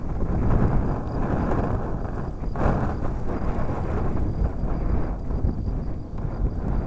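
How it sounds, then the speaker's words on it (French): Strong wind roars and buffets against the microphone on a slope where RC gliders fly, a continuous broadband rush that gusts slightly throughout. "le vent se calme"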